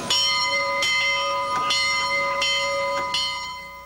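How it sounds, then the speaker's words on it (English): A small hand bell rung outdoors on the steps of St. Patrick's Cathedral at noon: five bright, ringing strikes in an even rhythm, each tone sustaining and overlapping the next, loud and close. "A small bell being rung by Cardinal O'Connor on the steps of St. Patrick's Cathedral this noon hour."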